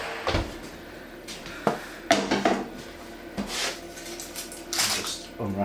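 Meatloaf pan lifted out of an oven, a series of sharp metallic clanks and thuds from the pan and oven rack, irregular and close, with short pauses between knocks.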